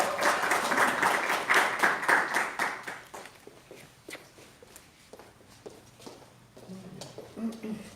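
A group claps hands in praise during a Bible study gathering, a dense burst of clapping over the first three seconds that then thins into scattered claps and shuffling, with faint talk.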